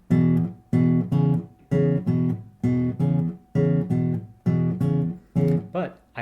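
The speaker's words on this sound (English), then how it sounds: "you can also use your thumb and your index finger here" Low 6th and 5th guitar strings plucked together with thumb and index finger in a blues pattern, a steady rhythm of nine or so bright, ringing pairs, loud and close with no talking.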